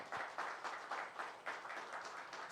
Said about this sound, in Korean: 우리 모두에게 감사한 마음으로 감사 박수 한번 하겠습니다.